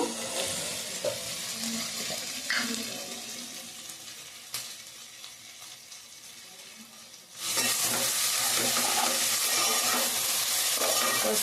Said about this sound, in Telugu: దొండకాయ అయితే ఈ విధంగా తిప్పుకుంటూ ఉండాలండి.